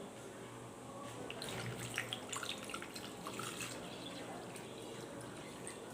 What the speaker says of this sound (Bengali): আর এই জল দিয়ে দেব।